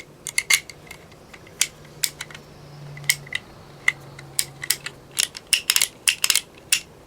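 Metal parts of a Heritage Rough Rider .22 revolver clink and click as the cylinder and bolt are handled, a series of sharp, close clicks and taps in irregular clusters over a faint low hum, with no talking.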